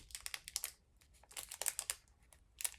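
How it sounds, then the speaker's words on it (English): A snack wrapper crinkles as it is held in the hand. The crackles are faint and close, coming in quick irregular bursts of sharp rustling. "Noticing the crinkling of the wrapper as I'm about to eat this"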